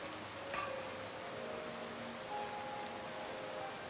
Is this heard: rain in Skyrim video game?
yes